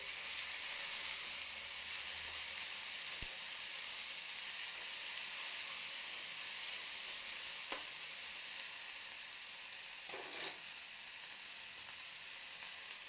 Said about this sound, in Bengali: নাড়িয়ে মিশিয়ে দেবো আলুটাকে, পেঁয়াজটাকে।